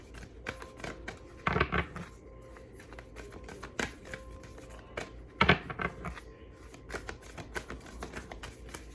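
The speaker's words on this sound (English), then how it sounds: "I need to practice my shuffling" Tarot cards being shuffled by hand, a series of close riffling and flicking bursts with soft slaps of the deck between them, scattered unevenly across the stretch with quieter rustling in the gaps.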